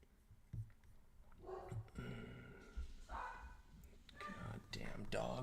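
Dogs barking at a distance indoors, a few faint intermittent barks and yips over low background noise.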